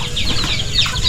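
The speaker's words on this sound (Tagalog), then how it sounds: "Look at guys, the chickens." Chickens cluck in short, overlapping calls over a steady outdoor background, fairly close and continuous throughout the brief moment.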